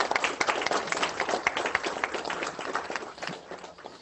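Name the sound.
class applause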